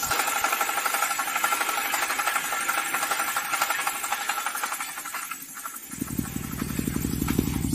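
A drilling rig engine runs steadily with a rattling, pulsing drone, then a deeper throbbing engine note kicks in strongly near the end as the throttle is increased.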